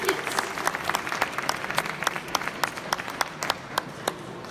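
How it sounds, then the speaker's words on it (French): An audience at a corporate event claps in a moderate, steady round of applause, with sharp individual claps standing out over the crowd. "Bravo, on peut encore une fois les applaudir"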